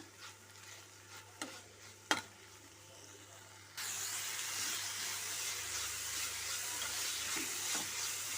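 Vegetable palya stir-fry with rock salt being stirred in a pan, a few scraping knocks early on, then a steady loud sizzling hiss of frying that continues close up to the end.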